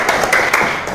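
A classroom of students applauds after a group presentation, a dense burst of overlapping hand claps that fills the whole moment at close range.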